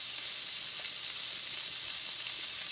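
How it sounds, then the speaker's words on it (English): Shrimp searing in about a tablespoon of hot oil in a pan, giving a steady, bright, hissing sizzle throughout, close and without any talking. "So I'm just going to stick my shrimp in about a tablespoon of oil. And you want your pan to be pretty hot, so you get a good sear on them."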